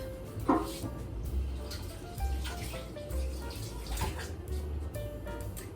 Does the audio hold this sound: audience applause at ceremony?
no